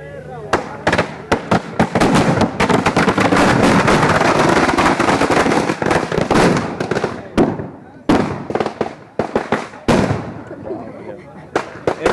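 Fireworks crackle and burst loudly in a dense, continuous barrage as a Ravan effigy burns at a Dussehra celebration, with sharp pops and bangs dominating and voices faintly underneath.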